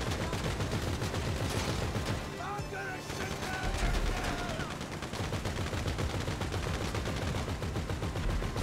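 Sustained gunfire in GTA Online during a vehicle chase, rapid automatic bursts hammering steadily with a brief lull midway, loud and dense throughout, with players talking faintly underneath.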